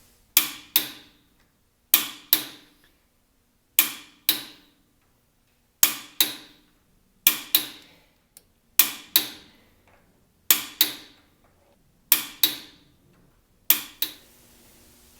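An impact driver with an M12 spline bit hammers Porsche 2.0 flywheel bolts tight, firing in sharp double-burst rattles about every one and a half seconds, close and loud, with near-silence between bursts.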